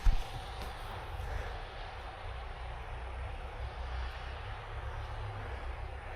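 A snowplow bike engine drones steadily as it plows through snow during a blizzard ride, a continuous low rumble with a brief louder burst at the start.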